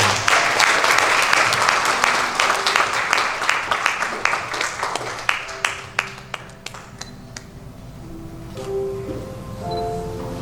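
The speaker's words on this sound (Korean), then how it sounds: "박수 한번 쳐주세요." A church congregation claps at a pastor's ordination ceremony, a dense burst of applause that thins out into scattered individual claps and fades, with a voice speaking briefly near the end.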